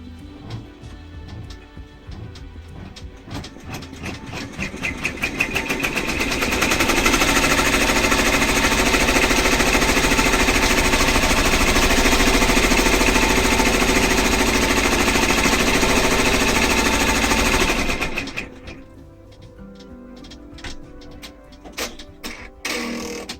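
An embroidery machine stitching an in-the-hoop stuffed toy starts with a few clattering stitches, then runs in a loud, rapid, steady hammering rhythm for about twelve seconds before slowing into scattered stitches and stopping.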